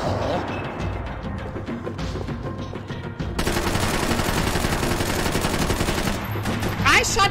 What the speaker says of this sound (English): I shot directly at him